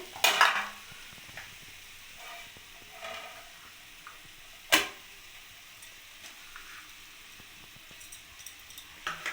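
A spoon stirs red amaranth leaf curry with potato, pumpkin and beans after chopped coriander goes in, giving a few sharp scraping clanks against the pot separated by quiet stretches of faint simmering.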